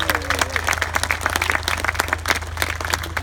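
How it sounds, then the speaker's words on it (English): Outdoor crowd at a working animals show in West Sussex claps for nine sheep breeds, a steady patter of applause over a low engine-like hum, with a brief voice at the start. "can we have a big round of applause for the 9 breeds of sheep that we have here on the show?"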